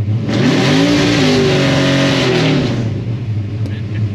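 A car engine fed by twin Edelbrock VRS-4150 carburetors on a tunnel ram intake revs up loud and close, rising and holding before dropping back to idle.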